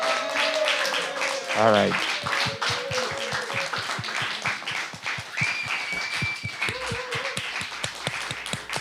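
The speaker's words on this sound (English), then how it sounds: "Please clap again for Alex." A seated audience at a daytime talk event claps steadily, the sharp hand claps rising then settling as a voice speaks over them near the microphone.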